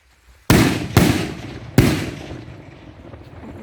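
New Year fireworks going off nearby, three sharp loud bangs in quick succession, each trailing off into a fading rumble.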